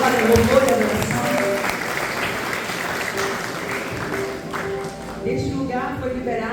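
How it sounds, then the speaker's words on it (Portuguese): Church congregation applauding during a worship service, a steady wash of clapping that carries through the whole stretch, with voices and some music running underneath. "Então você pode aplaudir o Senhor Jesus."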